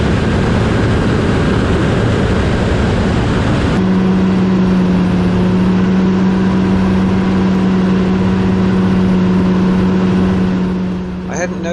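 An X-Air ultralight aircraft engine drones loudly and steadily in flight with heavy wind rush, running slightly unevenly, close and continuous throughout with no talk.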